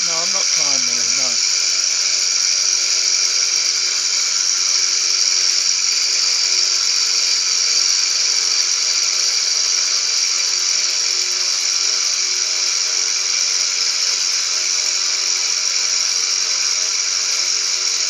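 Milling machine cutting on a profiler tool, a loud steady high-pitched whine with sustained tonal bands, continuous and close for the full length, with a brief voice at the start.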